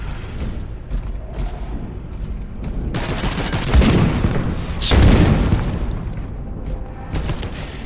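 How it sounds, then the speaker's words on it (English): A missile explodes in Space Hulk: Deathwing, two heavy booming blasts around the midpoint landing over a dense, continuous rumble of game combat noise, loud and close. "Missile"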